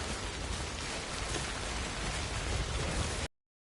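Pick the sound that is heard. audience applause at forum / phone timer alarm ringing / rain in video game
rain in video game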